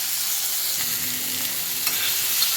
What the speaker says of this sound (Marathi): हा कापलेला टोमॅटो एक टोमॅटो आहे हा टाकून द्यायचा आणि हलवायचं, शिजवायचा थोडा टोमॅटो